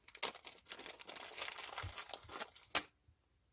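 Metal zipper pulls, some with screw-in parts, jangle and clink as they are handled, a series of close, bright irregular rattles ending in one louder clink.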